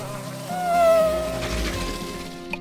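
A cartoon bee buzzes in a sustained, wavering drone with a sliding pitch that rises and falls over a couple of seconds, close and fairly loud, with no speech.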